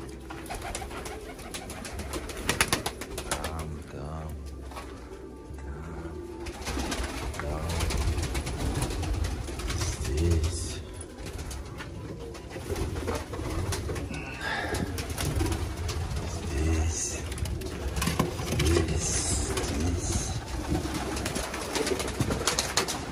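Pigeons coo around a feeding spot, soft repeated throaty calls from several birds against a busy backdrop of wing flutters and shuffling, with occasional light human voice.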